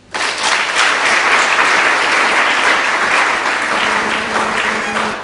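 A crowd at a launch ceremony in Ndola, Zambia claps loudly and continuously after a speech, a dense wash of applause that tapers slightly at the end.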